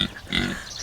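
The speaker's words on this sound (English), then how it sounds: "hungry pigs. I gotta feed them" Hungry pigs on a rainy farm give short, close grunts and snorts in a brief burst, loud and alone with no talk over them.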